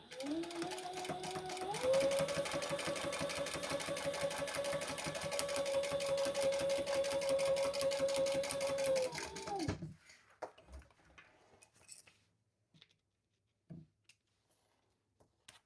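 A sewing machine stitches across the top of a lining piece for a custom white croc bag, running steadily and close for about eight seconds before stopping, followed by a few faint handling clicks in near quiet.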